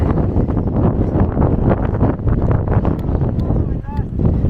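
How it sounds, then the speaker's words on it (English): Strong wind buffets the microphone in a constant rumbling roar on a mountain trail, with a few faint bird chirps near the end. "It's so windy today."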